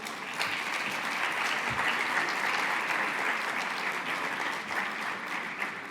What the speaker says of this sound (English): Let's give him a really big applause.